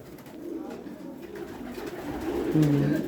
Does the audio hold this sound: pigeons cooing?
yes